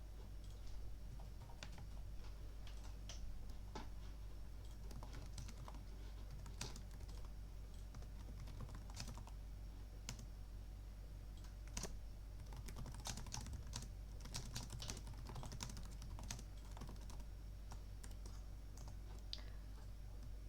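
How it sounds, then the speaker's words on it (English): Quick, uneven clatter of typing on a compact computer keyboard (not a Mac), clicking keystrokes in bursts with short pauses over a low steady hum, fairly faint and with nobody talking. "pressing all the wrong buttons because I'm not on a Mac. The keyboard's a bit more compressed"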